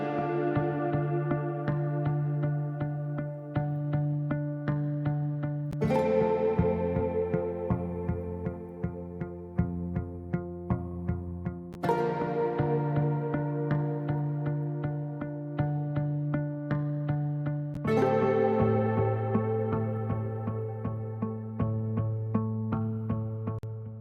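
A soft synthesized chord progression with a gentle melody for breathwork music, in long sustained sections that change roughly every six seconds, with quiet repeated plucked notes over it; steady, moderately quiet, no voices.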